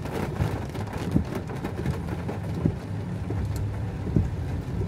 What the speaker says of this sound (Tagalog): dahil nga umuulan,